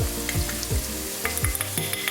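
Caramelized onions with curry powder frying in a pan for a chicken curry, a steady close sizzle broken by repeated scraping stirs and clinks of the utensil against the pan.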